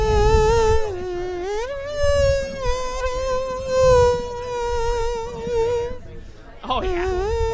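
A man imitates a theremin with his mouth, producing a wavering, gliding whistle-like tone with vibrato that sustains for several seconds, breaks off briefly, then resumes.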